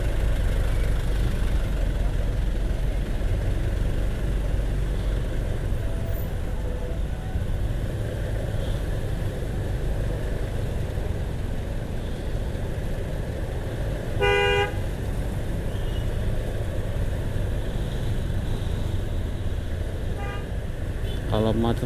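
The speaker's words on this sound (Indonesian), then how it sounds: "Macet guys, padat merayap." Engines idling in heavy, crawling traffic below a flyover at Pondok Kopi, a constant low rumble close by with a couple of short car horn toots, while a rider talks over it.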